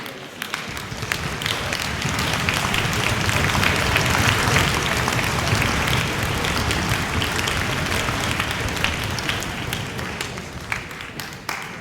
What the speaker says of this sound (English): And one more round of applause for our award winner.